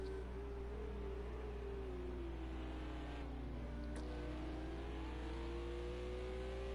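A Porsche GT3 race car engine in Project Cars 2 drones steadily at Zolder, its pitch sliding gradually down and then climbing again as the car accelerates. The engine holds a constant, moderately loud tone with no talk over it.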